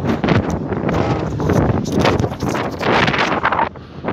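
Strong wind blowing outdoors and buffeting the microphone, a loud, continuous rushing roar with gusty surges and no speech.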